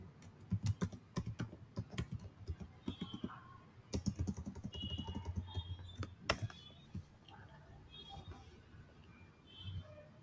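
Quick bursts of typing on a computer keyboard, close and crisp, with uneven clusters of keystrokes and short pauses between them.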